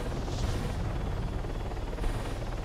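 A military helicopter in the combat video game Arma 3 roars as a loud, dense, continuous rotor and engine wash with a faint rhythmic pulse, heard alone without talk.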